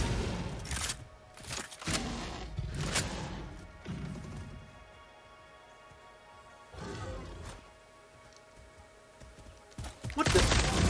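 Gunfire crackles in the factory-building game Satisfactory in a few scattered, sharp volleys at moderate distance, with quieter stretches between them.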